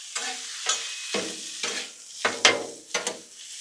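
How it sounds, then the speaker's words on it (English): 80-20 ground chuck and diced yellow onion sizzling on a Blackstone griddle while a spatula scrapes and stirs in repeated short strokes, each stroke bringing a bright crackle. "I got a bunch of hamburger meat right here, some 80-20 ground chuck. Toss it right on that griddle."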